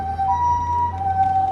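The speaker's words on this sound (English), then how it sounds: "And I guess that's the Japanese ambulance for you." A Japanese ambulance siren sounds on a street, a loud two-tone wail alternating between pitches over low traffic rumble, fairly close.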